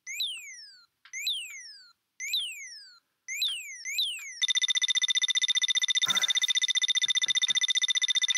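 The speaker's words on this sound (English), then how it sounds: "Annoying beeping sounds." Shrill electronic beeps from the Sonic 1 8-bit game, heard first as repeated falling chirps in short bursts, then as a continuous rapid pulsing tone with faint thumps beneath it.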